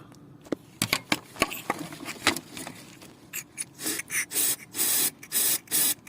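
Several short hissing bursts from a spray can of silicone oil applied to an Opel Vauxhall 1.8 16v cylinder head, separated by pauses, with some rubbing and handling noises in between.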